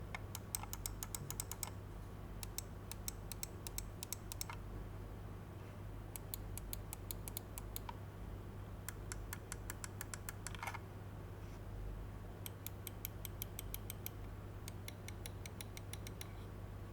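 Corsair Katar Pro wired gaming mouse clicking in short rapid bursts of crisp, quiet ticks, several clusters separated by pauses, heard close over a low steady hum.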